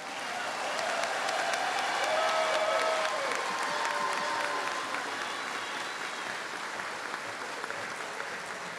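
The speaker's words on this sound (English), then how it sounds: "Let's just have a round of applause for a minute." Sustained applause from a crowd at a nursing pinning ceremony fills the room, steady clapping that continues loudly and gradually eases slightly toward the end.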